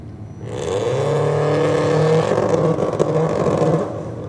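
A Subaru revving hard on the start line at a drag strip (Sydney Dragway), a loud sustained engine note rising and holding with steady harmonics, close by and without talk.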